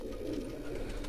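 Angrez-breed pigeons cooing steadily at close range, a low continuous throaty murmur with no speech over it.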